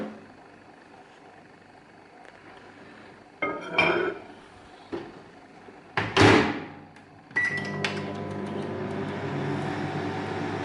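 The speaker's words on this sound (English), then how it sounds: "And now we're gonna put that in the microwave." Oatmeal goes into a microwave oven: a door clunks and clatters, buttons or dish clinks sound, then the oven starts with a steady humming drone, all close and without talk.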